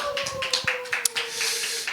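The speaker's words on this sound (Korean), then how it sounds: "우리의 박수로 하겠습니다" Scattered, light clapping from a church youth congregation, a few sparse claps and taps heard up close over a faint sustained tone and a brief murmur of voices.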